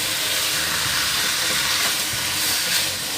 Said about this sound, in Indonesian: setelah panas kita masukkan ayamnya. Nah, ini kita aduk-aduk sampai berubah warna.